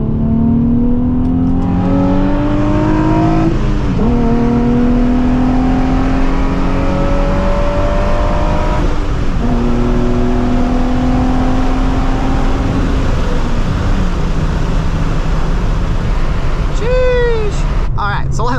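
A manual-transmission car's engine revs up through the gears in rising sweeps, each climb dropping away at a shift before climbing again. It stays loud and close throughout, with someone talking over it.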